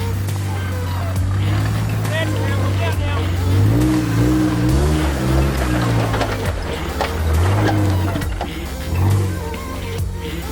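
An off-road vehicle on all-terrain tires revving hard in thick mud on a rain-soaked Ozarks trail in Arkansas, the engine rising and falling in loud surges as it fights for traction, with voices over it.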